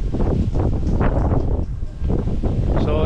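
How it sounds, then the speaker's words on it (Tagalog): Strong wind gusting at a seaside beachfront, a continuous loud roar and buffeting rumble with no speech, surging and easing slightly across the few seconds. "Sobrang lakas ng hangin."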